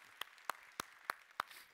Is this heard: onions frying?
no